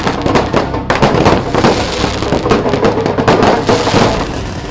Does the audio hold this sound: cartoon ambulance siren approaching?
no